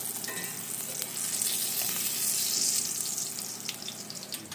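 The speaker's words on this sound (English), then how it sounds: "fry up some your tortilla shells, corn tortillas." Corn tortillas frying in hot oil, a dense continuous bubbling sizzle that swells in the middle and stays close and steady throughout.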